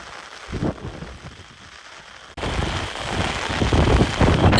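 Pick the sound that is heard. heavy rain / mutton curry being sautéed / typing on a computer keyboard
heavy rain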